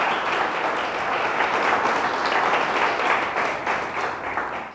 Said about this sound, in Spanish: Déselo fuerte, fuerte para Dios.